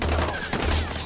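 Rapid gunfire from the Dying Light game, a dense burst of shots that fills the whole short moment at moderate loudness.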